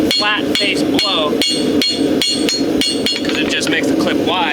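A farrier works a horseshoe clip with the heel of a hammer, drawing it out with a rapid, even run of sharp metallic strikes that ring close and loud, about two blows per second.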